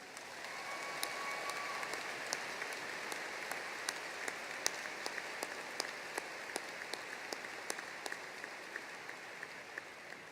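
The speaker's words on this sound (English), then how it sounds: "Please join me in a well-earned round of applause for Warren." Sustained applause from a large audience at a spring 2015 undergraduate commencement ceremony, a steady broad wash of clapping with sharp individual claps popping out, holding at an even level for about ten seconds.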